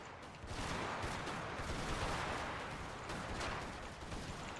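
Battle in the Total War Napoleon game, with dense rattling musket gunfire and howitzer booms crackling continuously at a moderate distance, with no talk.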